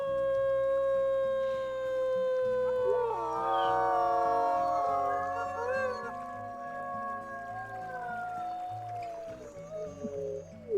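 A sustained, wavering wolf howl from a video game, several overlapping voices rising and falling over a low rhythmic musical backing, clear and synthetic-sounding.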